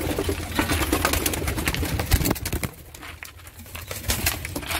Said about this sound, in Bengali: এই দুটো পায়রা দেখুন আপনারা।